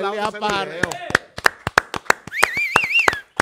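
Sharp, separate hand claps struck one at a time at a steady beat under someone talking, with another voice briefly rising near the end.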